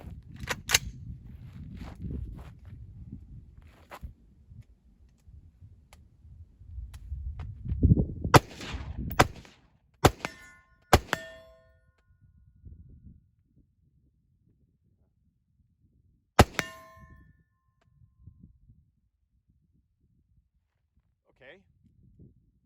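A 5.56 M4-class rifle in Modern Warfare 3 fires at a steel target about 60 yards away, with sharp isolated shots and metallic pings spaced across quieter stretches.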